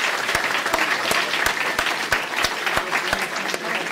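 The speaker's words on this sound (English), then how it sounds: "let's give our visitors a round of applause and a thank you for being here to help us today" Audience applause at a high school graduating class celebration breakfast, a steady wash of many hands clapping with a few sharp, distinct claps standing out, sustained and fairly close.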